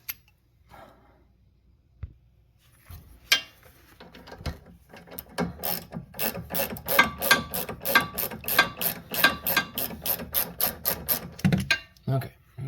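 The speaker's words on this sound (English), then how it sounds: "So now let's take my ratchet, take it the rest of the way off." A hand ratchet turns a sway bar link nut off a 2012 Hyundai Sonata, its pawl clicking in a fast, close, steady run of sharp ticks that starts after a few scattered knocks.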